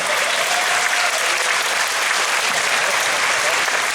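An audience at a Q&A event with David Duchovny breaks into loud, dense applause, sustained and even throughout with a crowd murmur under it.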